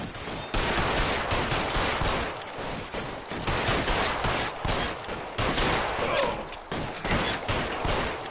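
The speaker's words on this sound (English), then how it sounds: "Nice shooting, Tex." Sustained gunfire from an L.A. Noire shootout in an alley, dense overlapping shots and bursts rattling continuously and loudly for the whole stretch with hardly a pause.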